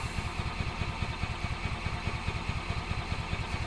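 Gas-powered 2005 Club Car Precedent golf cart with an intermittent starting fault, its engine cranking in a steady rhythmic chug that stays even and moderately loud throughout without catching.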